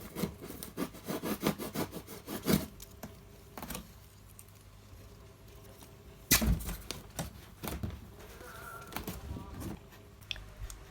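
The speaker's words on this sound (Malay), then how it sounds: "Kemudian kita akan potong lubang bulatan dia untuk kita masukkan heater fan kita." A round hole is cut for the heater fan of a homemade bird, chicken and quail egg incubator, with irregular close scraping and sawing strokes broken by short pauses and sharp knocks.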